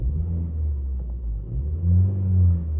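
A 2015 Vauxhall Astra 1.4 SRi engine revs twice, each rev a smooth, muffled rise and fall of low rumble close by, the second longer and fuller.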